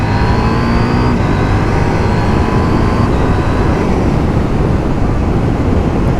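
A KTM 790 Duke motorcycle, A2 restricted, pulls loudly through the gears from second up to about 60 mph, engine pitch climbing and stepping down at shifts beneath heavy wind rush.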